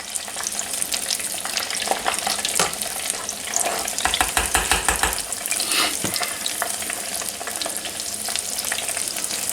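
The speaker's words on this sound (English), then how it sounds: "I'm not going to bore you with frying all these up" Jalapeno cream cheese poppers frying in hot oil, a loud continuous sizzle and crackle with brief bursts of bubbling as pieces are stirred, close up and without talk.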